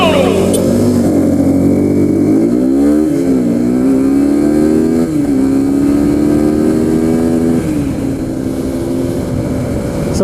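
A KTM RC200 and a Suzuki Gixxer SF250 accelerating hard in a side-by-side road race, loud continuous engine roar rising in pitch through several gear shifts.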